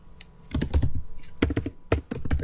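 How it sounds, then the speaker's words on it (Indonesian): Fingers type on a computer keyboard while entering text into an Excel spreadsheet, with clustered key clacks in uneven quick bursts, close and moderately quiet. "Ini kan saya ketikkan"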